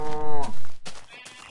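A cow in the Minecraft video game lets out a single loud, close moo, a low drawn-out bovine call followed by brief quieter game noise.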